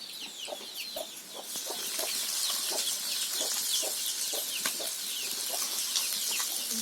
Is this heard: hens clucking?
yes